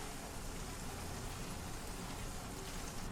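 Onion frying with ginger-garlic paste in a pan for a chicken curry gives a steady, even sizzle that hisses close by and alone, with no change from start to finish.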